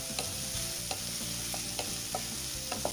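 Onions fry in a pan for a tuvar dal, a dense close sizzle broken by repeated sharp clacks of a spoon scraping and stirring against the pan at irregular intervals, with no speech.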